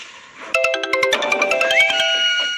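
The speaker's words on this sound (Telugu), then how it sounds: "పాప ఫోన్ చేసింది." An incoming call rings on a phone, a bright electronic ringtone melody of repeated chiming tones playing loud and close for a couple of seconds, with no talk over it.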